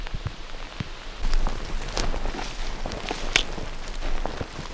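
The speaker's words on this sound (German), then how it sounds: "Langsam wird es ein bisschen drastisch mit dem Regen hier." Heavy rain pours down outdoors in an abandoned housing area in Germany, a dense, steady hiss of drops striking surfaces close by, with scattered louder splashes and pattering throughout and no voices.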